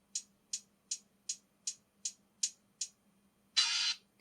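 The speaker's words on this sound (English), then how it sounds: "You can also hear this open hat." Lo-fi beat sample: eight evenly spaced, crisp closed hi-hat ticks in a steady rhythm, then one louder, sustained open hi-hat hiss at the end over a faint low hum.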